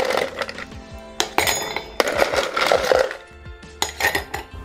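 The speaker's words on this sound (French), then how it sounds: "On va remplir notre verre de glaçons." Ice cubes clatter into a balloon glass for a summer cocktail, loud close clinks and rattling tumbles in several bursts, with no talking.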